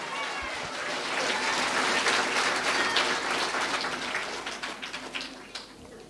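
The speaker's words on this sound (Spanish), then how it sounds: "Fuerte aplausos, aleluya." A church congregation claps together in a dense, steady burst that swells, holds, then thins into scattered final claps.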